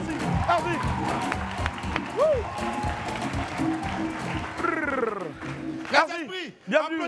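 Studio audience applauding and cheering on a French-language TV show, steady clapping under lively talk from a host, with voices rising near the end.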